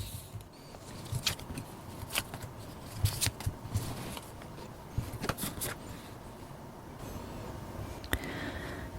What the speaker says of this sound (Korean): 카드로 한번 뽑아보도록 할게요